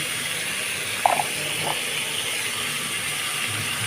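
Food browning in a hot pan in a home kitchen gives a steady, moderately loud sizzling hiss throughout, with a couple of brief metallic clinks partway through.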